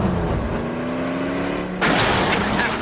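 A car crashes with a sudden loud impact that cuts across steady engine and mechanical noise, then the broadband crunch holds for about a second.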